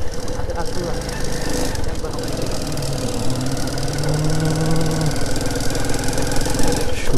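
A motorcycle engine runs loud and steady right up close throughout a night ride through a forest, with a constant rumbling drone and faint voices buried underneath.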